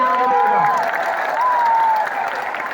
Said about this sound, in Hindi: दोनों को उठाकर ताली बजाकर स्वागत करें